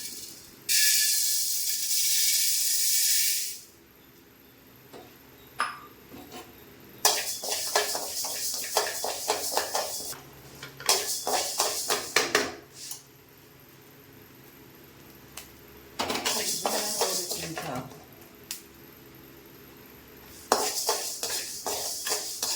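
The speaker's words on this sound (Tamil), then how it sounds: "இப்போ ஜவ்வரிசி நல்லா வறுத்தாச்சு இதில் மாற்றிடலாம்" Sago pearls dry-roasted in a pan and poured out, heard as repeated bursts of rattling, hissing grains and metal scraping, separated by quiet pauses, close and fairly loud.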